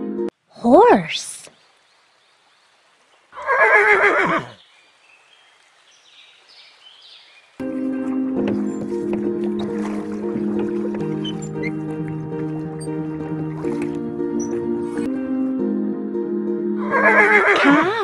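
A horse whinnies twice near the start, followed by a longer steady passage of music or tone, then another whinny at the end; the neighs are loud and close.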